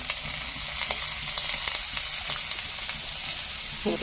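Onion, green chili, capsicum and tomato sizzle steadily in hot oil, a dense continuous frying hiss with occasional soft stirring scrapes, close and fairly loud throughout.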